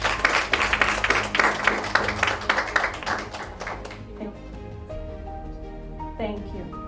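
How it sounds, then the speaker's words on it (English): A round of applause at an International Women's Day opening bell ceremony, dense clapping for about four seconds that fades out, followed by quieter background tones and voices. "Let's also give her a round of applause."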